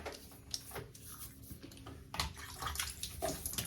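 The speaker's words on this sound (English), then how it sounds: "Okay, let's wet the face." Water splashing and running at a sink as the face is wetted before a cartridge razor shave, soft continuous trickling with small splashes and scattered drips, fairly quiet and close.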